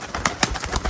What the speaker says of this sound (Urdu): تو میرے پسند کے وہ بڑی خوبصورت جالدار سے کبوتر ہیں یہ، جو کہ اس وقت آپ کو کیج میں نظر آ رہے ہیں